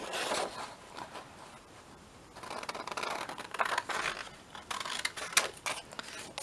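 Scissors cutting paper for autumn-themed journal cards: quiet, close, rustling snips in irregular bursts, with a pause before a busier run of cuts.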